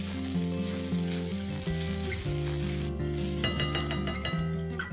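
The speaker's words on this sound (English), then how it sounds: "I'm going to saute this till the raw smell of the ginger and the garlic is gone" Ginger garlic paste sautéing in a pan, a steady close sizzle that runs unbroken under a tonal hum, with a few light stirring scrapes toward the end.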